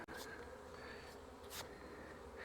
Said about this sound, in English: So I gotta get these bees off of there.